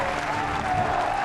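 Tennis crowd at the French Open applauding after a drop shot, a dense, loud, continuous wash of clapping and crowd noise through the whole moment.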